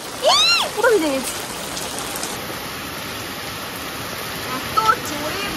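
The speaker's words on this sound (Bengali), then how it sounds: "এত জোরে বৃষ্টি পড়ছে," Heavy rain falls in front of a garage as a steady, even hiss, with a voice speaking briefly near the start and again toward the end.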